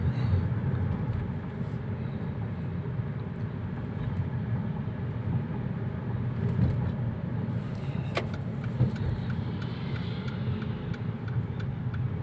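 Mercedes-Benz CLA250 out on a test drive after its electric steering rack was repaired, with a steady low road and engine rumble heard from inside the cabin and one brief sharp click partway through.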